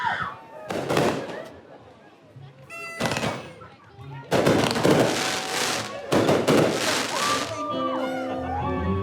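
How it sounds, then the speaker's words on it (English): New Year fireworks in the Cayman Islands burst in a series of loud, broad explosions with crackling tails, while people cheer and talk nearby. "Absolutely beautiful fireworks."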